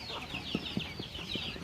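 Egg-laying ducks on a farm give a few short, soft quacks and clucks in an irregular rhythm over a faint high background chatter of other birds.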